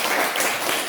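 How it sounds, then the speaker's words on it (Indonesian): A short, dense burst of classroom applause for a student, close and fairly loud, lasting under a second. "Tepuk tangan untuk Boas dulu."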